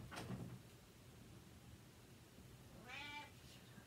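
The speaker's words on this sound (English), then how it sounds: "That's my cat." A house cat meows twice indoors, a short cry near the start and a clearer drawn-out meow around the three-second mark, both fairly faint against a quiet room background.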